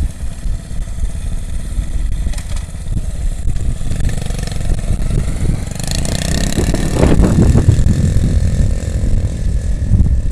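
A motorcycle engine rumbles loudly up close, idling and then revving higher partway through, with some rattling clatter.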